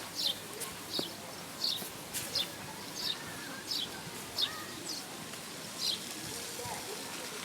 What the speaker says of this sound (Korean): 네, 새소리도 들립니다.